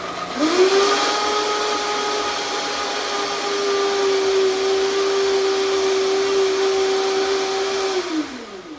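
A blender whirs steadily at high speed through protein pancake batter, a loud continuous motor drone with a rising pitch at start-up that holds for about eight seconds before winding down.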